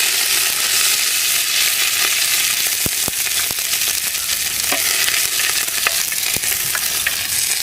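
Curry leaves dropped into hot oil already popping with mustard seeds, for a Kuttanadan-style chicken curry; a steady loud frying sizzle with scattered sharp crackles and pops throughout.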